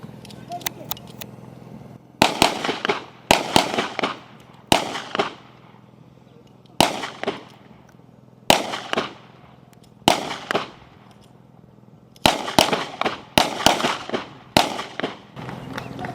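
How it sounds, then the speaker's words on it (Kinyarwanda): Police officers fire pistols at hanging targets on an outdoor training range, producing sharp, loud shots in quick volleys of several at a time, separated by short quiet gaps. "Bagiye kurasa ziriya ntego mubona zimanitse hariya ariyo twita hanging target. Barakoresha imbunda ya pistol."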